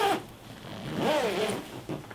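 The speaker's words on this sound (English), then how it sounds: "I take my packing bags and I zip the zipper" A zipper on a fabric packing cube bag is pulled closed in one smooth, quiet run lasting about a second, heard alone with no talking.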